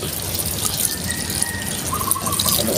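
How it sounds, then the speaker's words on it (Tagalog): Water is poured into a pan of fish (tambakol) while a Filipino labong dish with coconut milk is cooked, a steady liquid splashing and trickling that runs alone through the whole stretch. "Lagyan na po natin ng konting tubig"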